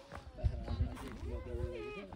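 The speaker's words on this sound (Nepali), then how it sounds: "कति बाख्राहरू त निकै रहेछन्" Goats on a hillside farm in Bhojpur, Nepal bleat in a few wavering calls at moderate distance, mixed with people talking nearby.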